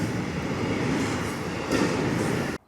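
A westbound train rumbles past nearby during a train chase, a steady heavy roar of wheels and cars that swells slightly near the end before cutting off abruptly.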